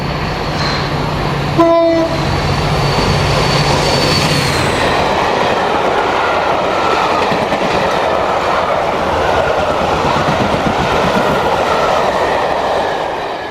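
Class 57 diesel locomotive 57002 hauls a railtour train in Hampshire. A sharp horn blast sounds near the start, then a loud, continuous rumble and clatter of the passing train fills the rest.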